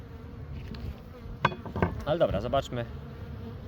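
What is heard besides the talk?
honey bees buzzing at a hive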